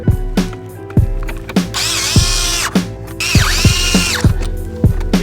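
Power drill driving screws during an aftermarket radio install in a 2005-2009 Subaru Legacy/Outback, loud and close, with repeated short whirring bursts and sharp clicks between them, no talking.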